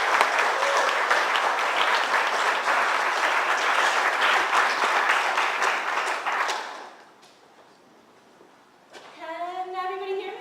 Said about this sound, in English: So please direct your applause to Jess Werk.